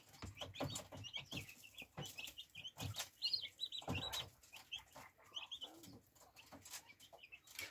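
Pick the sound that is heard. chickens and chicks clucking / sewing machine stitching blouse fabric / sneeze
chickens and chicks clucking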